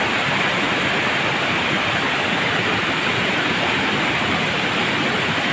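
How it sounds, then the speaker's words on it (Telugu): Continuous heavy rush of the Lidangi waterfall, close and loud, a dense even roar throughout with nobody speaking. "చాలా బాగుంటుంది వాటర్ ఫాల్"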